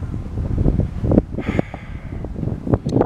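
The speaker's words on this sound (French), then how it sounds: "Au 3e étage, là, il y a un bon vent." Gusty wind on a third-floor balcony buffets the microphone in uneven low rumbling bursts, loud and close, rising and falling throughout.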